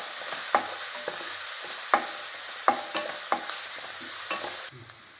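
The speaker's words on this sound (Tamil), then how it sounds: "இப்போ அரைச்சி வச்ச இஞ்சி பூண்டு, நல்லா பச்சை வாசனை போக நல்லா வதக்கணும்." Ground ginger-garlic paste is sautéed in a pan with onions that are already softened. A steady close sizzle runs under sharp, spaced stirring scrapes, and the frying quiets near the end.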